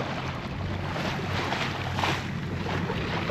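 A sailboat motoring at sea with its sail pulled in, moving at about 2 knots: a steady low engine drone runs throughout beneath constant wind rush and water wash, with no voices.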